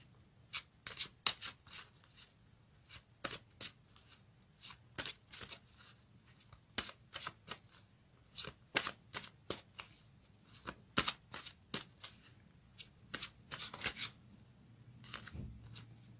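An astrological card deck being shuffled by hand, a quick run of crisp riffling snaps and slides at close range with short pauses between bursts, and no talking.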